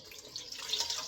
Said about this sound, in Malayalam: ആദ്യം പാല് പൊട്ടിച്ച് നമുക്ക് ഒഴിക്കാം